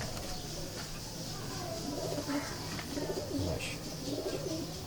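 Red-eyed show pigeon coos softly while being handled and displayed, low murmuring calls repeating under background room noise and faint voices.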